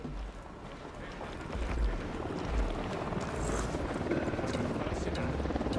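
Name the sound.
military helicopter on patrol in Ghost Recon Wildlands video game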